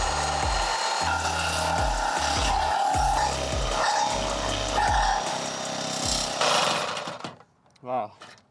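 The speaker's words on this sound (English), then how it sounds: "So I whipped out the Sawzall with metal cutting blade and went to absolute town on it." A Sawzall reciprocating saw with a metal-cutting blade chews through thick metal on a McLaren rebuild, loud rhythmic rasping in repeated bursts, then stopping near the end, where a short vocal exclamation follows.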